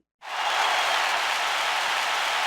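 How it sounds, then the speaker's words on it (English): Crowd sound effect in FL Studio starting abruptly after a brief silence, then a steady, even wash of applause-like noise at constant loudness. "I'm gonna put this crowd sound effect on that sheet"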